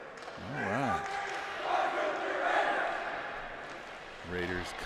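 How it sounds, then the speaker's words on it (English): A crowd at a hockey game cheering loudly as the Raiders skate out, a swelling roar of voices with a commentator talking over the start and end. "Raiders come out, a boisterous cheer."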